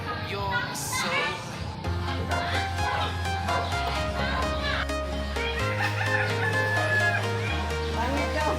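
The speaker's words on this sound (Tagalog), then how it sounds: "Iba't ibang klaseng manok." Chickens of various breeds cluck and a rooster crows among the flock at a wildlife park in Pansol, with a voice talking over them and rhythmic music playing loudly throughout.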